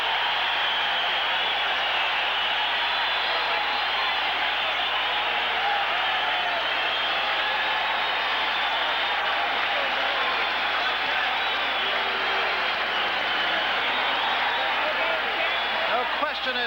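A big boxing arena crowd roars continuously before a title fight as the champion enters the ring, a dense steady wash of cheering and noise throughout.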